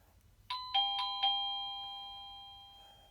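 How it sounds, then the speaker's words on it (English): A doorbell sounds four quick, clear chimes close by, their bright tones ringing out and slowly fading to quiet. "That was my doorbell"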